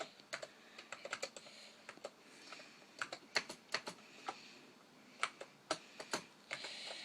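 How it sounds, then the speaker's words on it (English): Keystrokes on a Power Macintosh 5400 keyboard, typed slowly with one hand in irregular bursts of distinct clicks and pauses, close and fairly quiet, with no one speaking. "I can type in some text."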